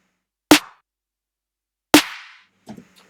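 Two layered electronic snare samples hit sharply and punchily about a second and a half apart, the second with a longer noisy tail, followed by a faint softer rattle.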